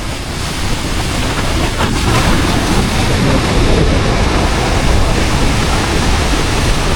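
A waterfall beside a hiking trail in Iceland gives a loud, unbroken rushing roar, with a little wind buffeting the microphone.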